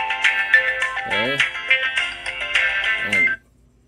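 A phone rings with a melodic ringtone for an incoming call placed from a C30 Pro smartwatch, playing loud and close for about three and a half seconds before cutting off abruptly.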